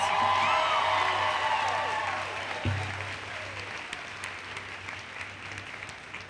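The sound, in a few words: audience applause at graduation ceremony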